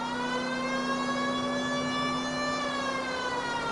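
A police car siren in the video game L.A. Noire, a sustained, buzzy harmonic tone that bends slightly in pitch, heard alone and steady throughout.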